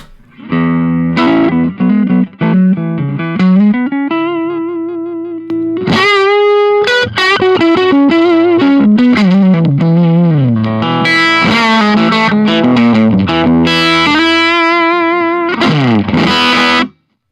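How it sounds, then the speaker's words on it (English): Electric guitar through a Marshall Class 5 amp pushed by a stacked boost, overdrive and fuzz, playing gritty single-note lines and bends, then dense driven chords, loud and steady with no voices. "I just do a boost, an overdrive, and then a fuzz, so you can hear how it pushes the amp into that dirty territory"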